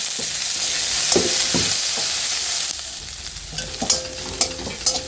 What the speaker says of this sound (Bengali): পেঁয়াজ লঙ্কাটা হালকা হালকা ভাজা ভাজা হয়ে এসেছে